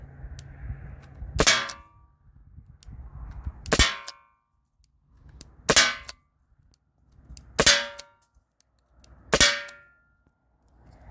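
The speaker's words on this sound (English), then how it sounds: "So I'm gonna shoot that panel." Byrna SD launcher firing nylon balls at an aluminum panel outdoors: five sharp metallic clangs with ringing tails, evenly spaced about two seconds apart, each preceded by a soft pop of the shot.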